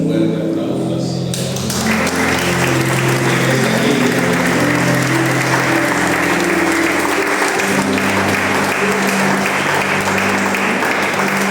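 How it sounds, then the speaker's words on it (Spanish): A church congregation applauding, loud dense clapping that breaks out after a sung or spoken opening and continues strongly, with voices and music mixed beneath the applause. "les pido el favor de dar un fuerte aplauso al Señor"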